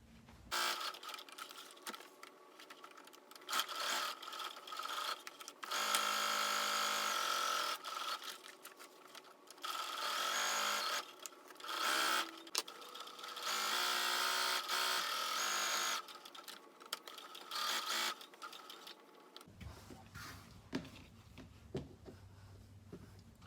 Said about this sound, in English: So I'll go ahead to my sewing machine and sew on the three sides, leaving the top open